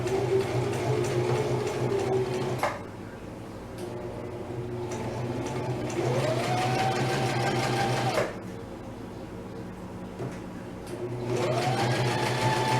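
A sewing machine stitches fabric for an open-edged bag in a steady, fast mechanical whir, running in sustained bursts broken by two short pauses, close and clear.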